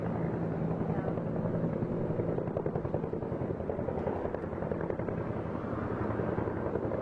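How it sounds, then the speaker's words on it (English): A helicopter's steady, loud rotor chop fills the whole stretch, a continuous rumbling thrum with no break and no other sound standing out. "I got to get that helicopter."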